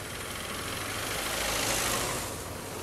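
A big bus engine idles close by on a street during a traditional cowboy parade in São Pedro do Piauí, a steady low rumble with a faint swell in the middle and no talk.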